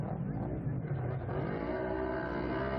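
Several UTVs launching at the start of an off-road GNCC cross-country race at Mountaineer Run, engines revving and roaring together in a loud continuous blend with some crowd or commentary underneath.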